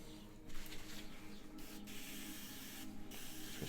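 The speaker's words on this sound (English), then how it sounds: "Just spray that through." An airbrush sprays paint thinned with flow improver onto a miniature figure, giving a continuous close hiss with short breaks as the trigger is released and pressed again.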